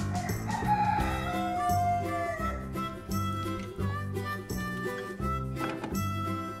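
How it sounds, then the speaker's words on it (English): A big rooster crows loudly and repeatedly, its calls standing out over a dense, steady layer of other sound with no talking. "Ooh, a big rooster."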